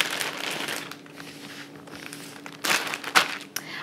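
Pork pieces inside a plastic bag are pounded flat with an open palm: steady crinkling and rustling of plastic, with a few sharper slaps and crunches near the end, close and moderately loud.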